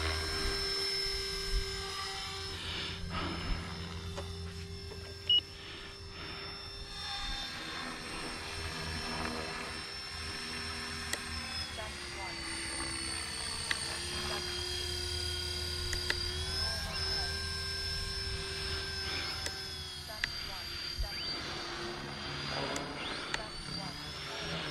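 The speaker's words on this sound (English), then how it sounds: "It sounds like a real heli when it's flying up in the air." RC helicopter flying overhead outdoors, a steady whining rotor and motor drone that rises and falls in pitch as it manoeuvres, moderately distant, with faint speech underneath.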